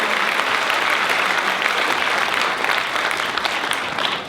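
Sustained crowd applause at a 48 Hour Film Project awards show, a full, loud roar of clapping from a large audience that holds steady throughout.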